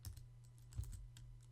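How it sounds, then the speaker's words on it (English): Rapid keystrokes on a wireless computer keyboard, a quick irregular run of close, soft clicks over a low steady hum, no talking. "come on, what's going on with my keyboard?"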